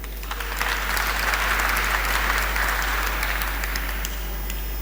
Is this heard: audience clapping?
yes